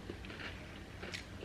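Someone bites into crunchy In-N-Out food, soft crisp crunches and chewing sounds close to the microphone, quiet and without talk.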